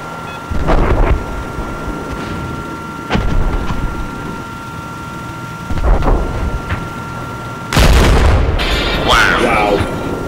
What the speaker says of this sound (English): Someone just C4'd the LAVs as I move.